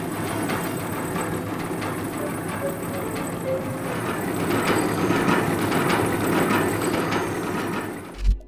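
A spirit train in Zelda Breath of the Wild rumbles and clatters steadily like a working railway engine, a dense continuous low drone that swells slightly midway and ends with a brief thump.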